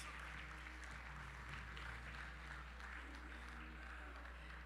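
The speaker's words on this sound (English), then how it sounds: "if you will join me in cheering for them" Faint, steady applause and cheering from an audience plays over a low electrical hum, sounding distant and even from start to finish.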